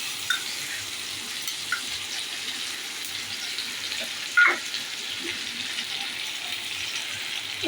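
Ginger paste fries in a pan for dhoka dalna, giving a steady, soft sizzling hiss throughout with a few small pops and spits.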